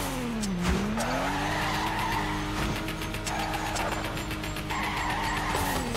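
Tires skid and squeal as a car drifts in the PC racing game Torque Drift, with a steady engine drone and swooping pitch as the car slides through a drift section, loud and continuous.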